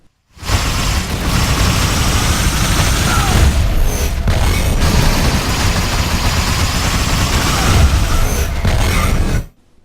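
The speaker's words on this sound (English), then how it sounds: "When players pump enemies full of the fuse antimatter mixture, a black hole appears and rips enemies apart." In the video game Fuse, a black hole from the Fuse antimatter mixture rips enemies apart: a loud, dense, continuous roaring rumble with deep booming undertones that holds steady for about nine seconds before cutting off.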